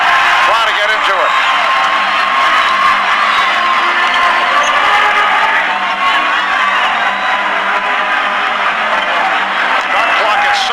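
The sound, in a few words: basketball arena crowd cheering at NBA Finals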